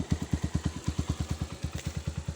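A motorcycle engine idles close by with a steady, fast chugging pulse of evenly spaced low thumps, alone without talk.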